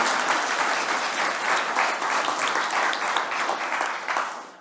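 A room full of people applauds steadily, dense continuous clapping that fades slightly toward the end.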